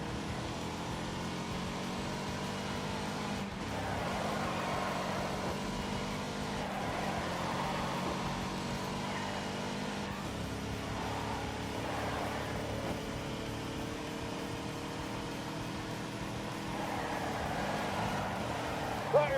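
In The Grand Tour Game, a car engine held at full throttle drones steadily, with harmonic revving that rises and shifts gears across the stretch, continuous and fairly even in level.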